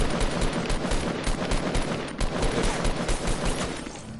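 Rapid automatic gunfire in a PS4 shooter game, dense continuous bursts of shots, loud and close throughout with no talk.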